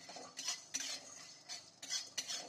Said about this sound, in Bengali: এই ছোলার ডালটা আমি আলাদা করে ভেজে নিচ্ছি